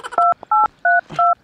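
Four crisp telephone keypad tones beep in quick, evenly spaced succession as a number is dialed, loud and close with no speech over them.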